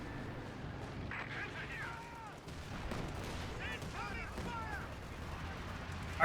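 Twin-gun armored cars fire in a Company of Heroes 2 battle, their gunfire rattling steadily amid a dense mix of game combat noise and shouted unit voices throughout.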